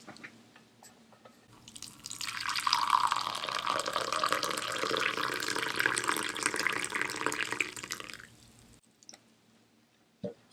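Hot water is poured for a cup of Darjeeling tea, a continuous close splashing stream that swells, holds for several seconds and then tapers off, followed by a faint click, with no talking.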